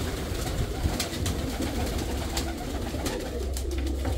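Pigeons leaving their loft coo softly and repeatedly at close range, low throaty calls mixed with rustling and wing flutters, with no voices.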